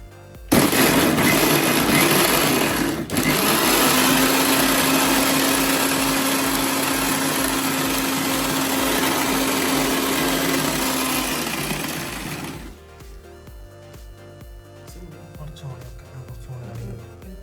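A kitchen mixer grinder whirs loudly and steadily while blending masala for a homemade chicken curry with coconut milk, running for about twelve seconds before cutting off abruptly, leaving quiet room sound.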